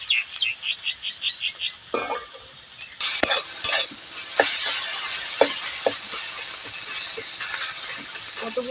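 Vegetables, including cabbage, are stir-fried in a pan with a steady bright sizzle, and a spatula scrapes and clatters against the metal in short strokes throughout.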